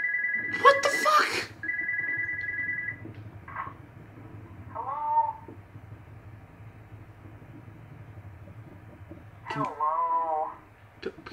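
A telephone rings in the horror game Spooky's Jump Scare Mansion, a short electronic ring near the start and another burst later, with game effects and low background rumble between them.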